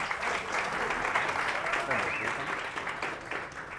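Applause from a studio audience on a Catalan TV word game show, a dense sustained patter of clapping with a voice talking faintly over it.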